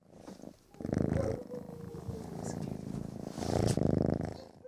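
A rescued kitten evacuated from Zaporizhzhia purrs steadily and close up, a continuous low rumbling throb that swells and fades over several seconds with no talk over it.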